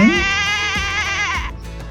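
A single loud, wavering bleat from a lamb or sheep during a children's toy farm game lasts over a second, close up, with rumbling background noise underneath.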